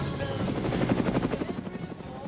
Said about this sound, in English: That's a helicopter sound effect.